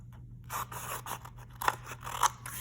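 Scissors snip and scrape through paper in short, close strokes, with a couple of sharper cuts standing out over a low background hum.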